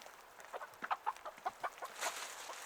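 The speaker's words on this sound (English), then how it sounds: "I'm going to give it to the birds" Homestead chickens cluck in quick, soft bursts while being fed bread, several birds fairly close and faint with no talk.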